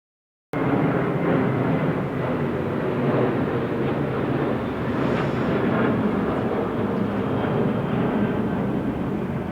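A fixed-wing airplane on a flight path passes overhead, its broad roar loud and steady for several seconds without speech.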